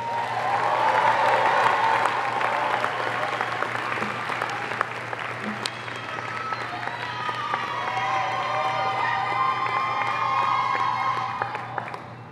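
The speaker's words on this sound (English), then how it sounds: "Ladies and gentlemen, give our graduates a big round of applause." A large commencement crowd applauds its graduates in sustained, dense clapping mixed with cheers and scattered whoops, lasting about twelve seconds before starting to fade.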